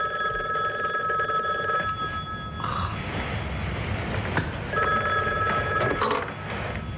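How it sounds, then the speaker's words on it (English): An old telephone rings in a late-night bedroom, two long electronic trilling bursts separated by a pause, heard fairly close and alone without any talking. "My head had barely hit the pillow when the phone rang."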